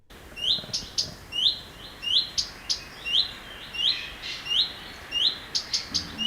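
A steady series of short, rising whistled calls repeated about twice a second, mixed with sharp clicking ticks, a common redstart's persistent alarm call close by.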